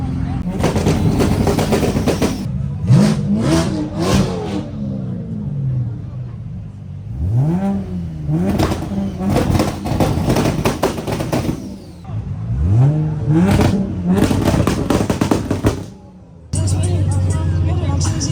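A straight-piped BMW M4 G82 at a large Los Angeles car meet revs hard in repeated loud bursts, its exhaust note rising and falling sharply, with crowd chatter and other engines around it.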